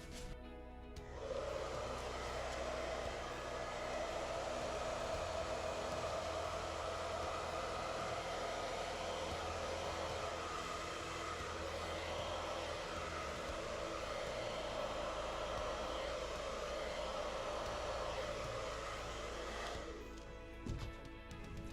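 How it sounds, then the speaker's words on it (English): A hair dryer switches on and blows over acrylic pour paint with a steady, loud whooshing hum for about twenty seconds, then cuts off. "Maybe I should try the hairdryer for the whole thing."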